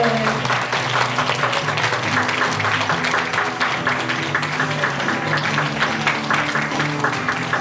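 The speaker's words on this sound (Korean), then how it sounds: "여러분 박수 치셔야 됩니다." An audience at a book launch concert claps continuously in a dense, even wash of applause, with faint voices murmuring underneath.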